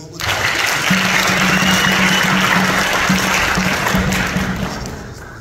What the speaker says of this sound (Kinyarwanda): Imana tuyikomera amashyi